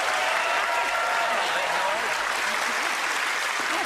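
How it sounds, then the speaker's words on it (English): Studio audience on Penn & Teller: Fool Us giving a helper a big round of applause, dense sustained clapping that fills the room loudly for the whole stretch, with a voice speaking faintly underneath. "Give Allison a big round of applause."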